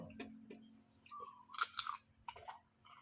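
Food being chewed and eaten close up, with soft crunchy bites and moist mastication sounds in irregular bursts, alone with no talking.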